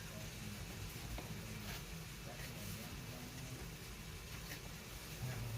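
Food frying in bacon fat in a sanded Lodge cast iron skillet gives a faint, steady sizzle and crackle, with occasional stirring clicks, under quiet background hiss.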